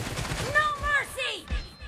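Gunfire in a PUBG Mobile team deathmatch, several quick shots and bursts mixed with game effects under excited player chatter.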